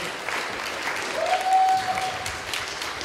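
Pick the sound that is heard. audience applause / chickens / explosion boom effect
audience applause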